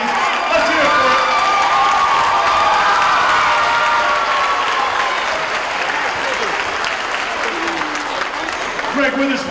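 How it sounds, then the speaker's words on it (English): A school audience gives sustained applause mixed with cheering and children's shouts, a loud, dense clapping that fills the room for the whole stretch, with voices calling out over it. "And I wanna give a big round of applause for your principal, Andrina Smith."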